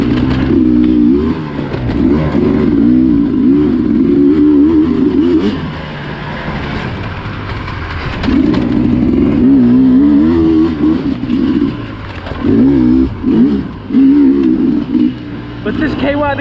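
A Sherco SC250 two-stroke Cross Country Edition dirt bike ridden at Crow Canyon revs close and loud, its pitch climbing and dropping as the throttle opens and closes, with a few short lulls between bursts.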